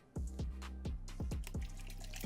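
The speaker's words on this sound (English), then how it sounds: "we are going to pour the water in first" Water glugs from a plastic bottle into a cup, around ten quick gurgling pulses in a steady rhythm, close and fairly quiet, alone.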